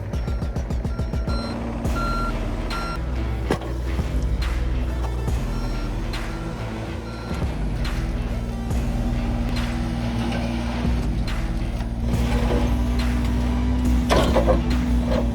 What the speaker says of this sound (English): So we got the excavator here.